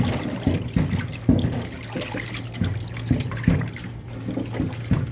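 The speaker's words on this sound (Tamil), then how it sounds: "இன்னொரு திருப்பம் நல்லா கழுவுது தண்ணியில்." Beef and oxtail pieces being washed in water for a masala dish: close sloshing and trickling water with repeated splashes and handling noises, steady throughout without talk.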